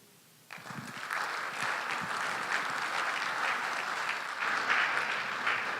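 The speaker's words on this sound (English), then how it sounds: "Professor Stephen Ade, how about a resounding round of applause?" Audience applause fills a gala dinner hall at a CEO summit after a speech, starting abruptly and holding as a steady, dense clatter of many hands, loud and sustained with no talk.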